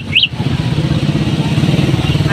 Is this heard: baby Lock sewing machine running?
no